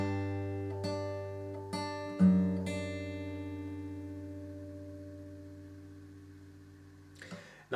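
Fingerstyle acoustic guitar playing the first bar of a song, a thumbed bass note with a few plucked treble notes that ring out and slowly fade, close and quiet.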